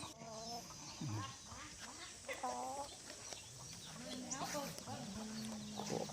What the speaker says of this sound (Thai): ไก่บ้านเลี้ยงเองเลี้ยงปล่อย เยอะเหมือนกันไก่บ้าน